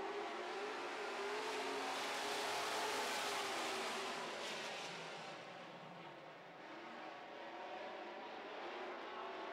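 Super stock race cars roar off the start of an oval-track race, a dense pack of engines building loud and close, then easing slightly as the field moves away before swelling again.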